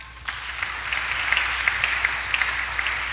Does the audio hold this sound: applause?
yes